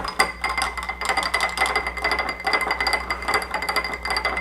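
A spoon stirring a Godfather cocktail of Kirkland blended Scotch whisky in a glass, a steady, rapid clinking against the glass repeated close up over several seconds with no talking.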